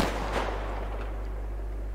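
A submachine gun fires in the video game Survarium: a single loud sharp burst near the start, followed by a fading tail over a steady low hum, with no voices.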